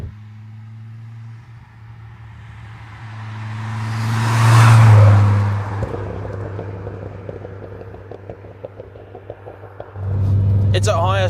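A Mk2 Ford Focus ST on BC coilover suspension accelerates hard, its engine note swelling to a loud roar and then easing off. Steady road rumble continues underneath, and someone talks throughout.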